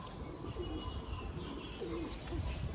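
A Madras Giribaz pigeon gives two low, soft coos a second apart, faint and close, over a quiet background hum of other birds.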